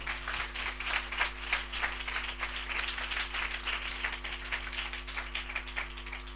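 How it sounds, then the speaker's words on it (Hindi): Applause from a church congregation at a spiritual gathering, a steady wash of many hands clapping at moderate distance over a low hum, with no talking. "हम जोरदार तालियों से उनका स्वागत करें"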